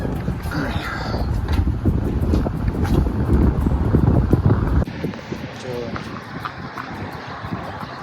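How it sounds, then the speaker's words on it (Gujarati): Strong wind roars across the microphone during a snowstorm in Canada, a loud, steady rush that drops off sharply about halfway through and continues more gently. "બારે જોરદાર પવન છે"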